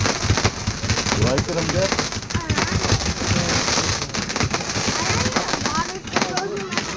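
Fireworks at a 2020 show pop and crackle in dense, overlapping bursts nearby, while a person talks over the noisy display.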